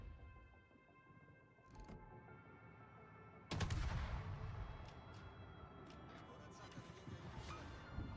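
Naval guns fire in World of Warships during a torpedo attack. A sudden heavy boom cuts through a constant low battle roar and is followed by scattered sharper cracks, all faint and distant-sounding.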